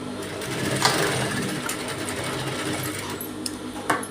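A sewing machine stitches dori thread pipe for decorative hangings, a continuous close whir with a few faint clicks and taps over steady motor hum.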